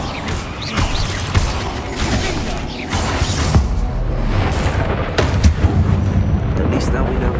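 Confringo and Incendio spell blasts in the Hogwarts Legacy video game: dense, loud rumbling booms and crackling bursts overlapping continuously, with sharper impact hits scattered throughout and no talk.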